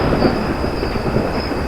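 A low, continuous rumble of thunder rolls through a dramatic film scene as the weather turns before rain. The sound is loud and steady, with a thin, sustained tone above it and no speech.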